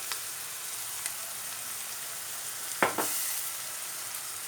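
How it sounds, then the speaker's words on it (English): Vegetables for an artichoke filling stir-fried in a pan make a continuous bright sizzle, with one sharper scraping stir near the middle and a few faint taps. "we're just going to stir fry these now for a minute"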